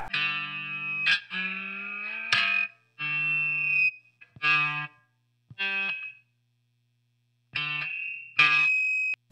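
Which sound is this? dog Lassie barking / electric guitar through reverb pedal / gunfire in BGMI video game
electric guitar through reverb pedal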